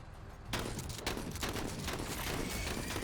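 Gunfire salvos in the turn-based tactical game MENACE, set in an icy battle, erupt after a half-second pause as dense overlapping blasts of artillery and rifle fire. They are loud and continuous, with several sharper shots punching through the barrage.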